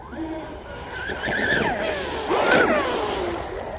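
A small electric RC boat motor with a three-blade prop whines at a high pitch, rising and sweeping in tone, fairly close and steady, with a brief voice near the start.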